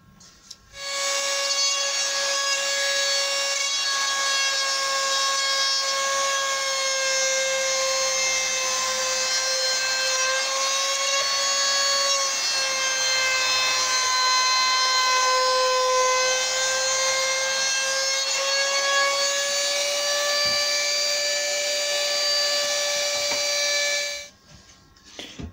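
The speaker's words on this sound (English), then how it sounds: "Got a little chamfer cutter in the router." A router fitted with a chamfer cutter runs a long, continuous pass along wood for a gate, giving a steady high whine with a slight pitch dip midway, close and loud with no talking.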